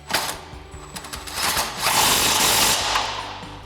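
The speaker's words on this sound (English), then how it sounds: "tighten those down using our 16mm socket and an extension on our impact" An impact wrench with a 16mm socket on an extension runs in short buzzing bursts and then a longer steady whir as it tightens suspension bolts on a Jeep Wrangler JK during a lift kit install; loud and close, no talking.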